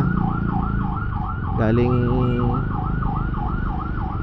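An ambulance siren wails in a steady repeating yelp on a road, apparently along Commonwealth Avenue, heard from a motorcycle over engine rumble, with a brief spoken word and a horn-like tone mid-clip.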